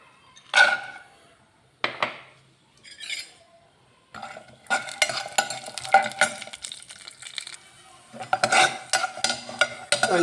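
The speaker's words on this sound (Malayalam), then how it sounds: "എന്നിട്ട് അണ്ടിപ്പരിപ്പ് വറുത്തുമ്പോൾ കോരി വയ്ക്കാം." Cashew nuts fry in ghee in a pan for a Vishu feast meal. A few separate clinks and scrapes come first, then a steady, close sizzle with ongoing stirring and utensil scrapes fills the rest of the clip.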